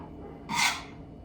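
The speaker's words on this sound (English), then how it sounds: "now I am going to trim some of the excess" Excess pumpkin pie crust dough being trimmed at the edge of the dish, a single short scraping rasp, close and fairly soft, against a quiet background.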